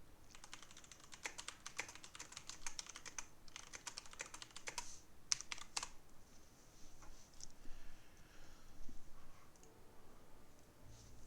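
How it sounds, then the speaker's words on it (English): A computer keyboard clatters under quick typing as a comment is written, with dense bursts of clicks for about six seconds, then sparser, fainter keystrokes. "I'll just type a comment in here."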